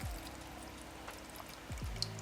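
Water, about two cups, poured into a vegetable seasoning of sugar, sake and soy sauce for vegan chirashi sushi, heard as a steady close splashing stream throughout with a few brief knocks.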